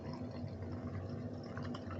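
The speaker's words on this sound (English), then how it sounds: "I don't know why I'm pouring it like a beer" Pink black cherry hard Mountain Dew is poured into a glass like a beer, a faint steady fizzing trickle with soft bubbling throughout.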